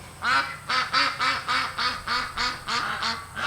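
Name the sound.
ducks quacking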